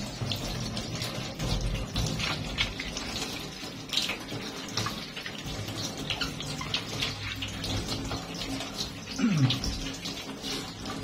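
Water runs steadily from a tap and splashes over a dirty, blackened water filter being rinsed, with irregular gurgles and knocks throughout, fairly close.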